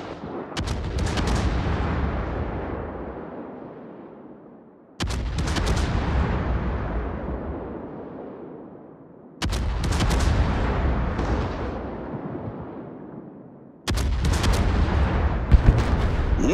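Naval guns firing in a warship battle video game, with four heavy booming salvos spaced about four seconds apart, each a loud blast rolling off into a long decaying rumble.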